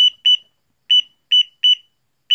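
Digital LED cube alarm clock beeping its alarm: short, shrill electronic beeps in pairs and singles with gaps between, loud and close, with no talking.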